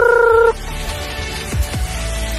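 Laying hens kept for sale on a game farm, heard up close as a short sustained tonal call followed by quick fowl gobbling and clucking calls against a steady background.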